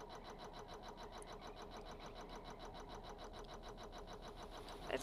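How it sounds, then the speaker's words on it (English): A car engine runs steadily at a low level in Stormworks, a constant pulsing drone with no talk. "As you can see, our engine is now working, as well as our car."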